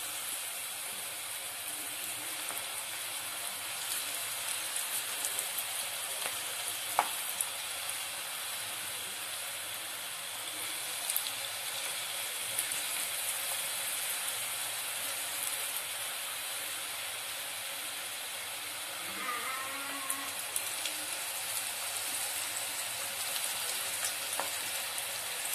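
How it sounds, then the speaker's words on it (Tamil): Peanuts deep fry in hot oil over a medium flame, giving a steady broad hiss and sizzle that keeps going at an even level throughout, close by, with faint clinks now and then and no voices. "கடலை ஃப்ரை பண்ணும்போது மீடியம் ஃபிளேம்ல வச்சுக்கோங்க"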